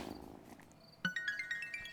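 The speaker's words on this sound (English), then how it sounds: "you can pet the cat here" A cat being petted in the cozy witchy video game Wylde Flowers gives a soft purr, then a series of bright, tonal chirping cat calls, quiet and alone.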